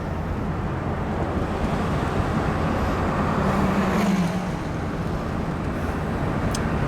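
A 1959 Cadillac rolls past outdoors on a Chicago street, a steady low engine and road rumble mixed with wind noise, fairly constant in level with no voices.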